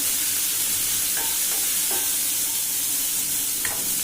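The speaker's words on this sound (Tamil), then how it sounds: "வெங்காயம் நல்லா வணங்கிட்டுங்க." Onions sautéing in a pan for Trichy-style karuvadu thokku, a loud continuous sizzle with a few faint utensil scrapes and taps running through it.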